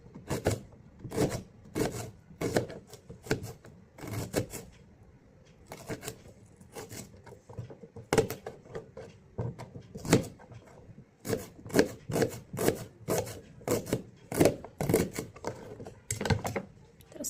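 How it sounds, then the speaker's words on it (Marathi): A knife chopping onion lengthwise on a cutting board at home, crisp evenly spaced chops in bursts with short pauses, close and clear, no talk over them. "असा कांदा कापून घ्यायचा."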